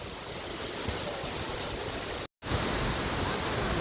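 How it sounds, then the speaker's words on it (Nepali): Octopus waterfall beside the mountain road to Manang in Nepal, a loud, steady broadband roar of falling water heard close up, with a brief total dropout midway before the rush resumes. "यो त मनाङ जाने बाटोमा यहाँ माथिदेखि झरेको झरना हेर्नु त"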